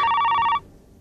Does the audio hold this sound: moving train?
no